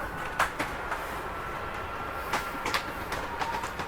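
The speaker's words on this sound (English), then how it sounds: "Your slide's going to go out." A Jayco Jayflight 267BHS travel trailer's slide-out motor extends the slide, giving a steady mechanical rumble with a few sharp clicks and knocks along the way. No one speaks over it.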